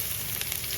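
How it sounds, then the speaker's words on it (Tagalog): Chopped onion and garlic hit hot oil in a pan, giving a brief, close, steady crackling sizzle while cooking chicken pastil. "So guys, lalagay na natin yung sibuyas at bawang."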